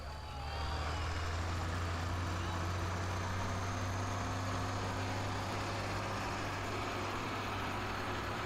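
A pulling tractor's engine idles at a county fair tractor pull, a loud steady low rumble holding continuously throughout, with faint crowd or announcer noise under it.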